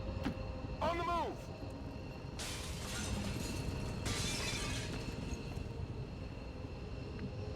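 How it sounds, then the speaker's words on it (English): Glass shatters in XCOM 2, two bright crashing bursts of breaking panes a couple of seconds apart over a low, steady game background. "Gotta break some glass, of course."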